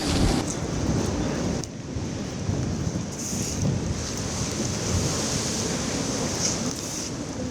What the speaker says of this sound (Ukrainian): Волни взагалі завжди бувають такі великі, але такого ще не бачила